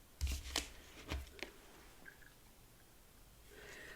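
Tarot cards are shuffled and riffled in a few quick, crisp bursts close by, followed by a short quiet stretch with faint handling.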